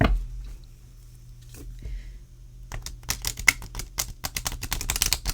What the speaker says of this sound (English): I'm going to do another riffle.